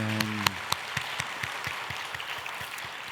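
A church congregation claps in a steady, fairly even rhythm over a bed of scattered applause, moderately loud and close, with a brief sung or spoken tone at the very start.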